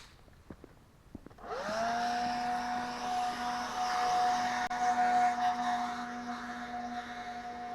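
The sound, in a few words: leaf blower blowing off loose dirt and leaves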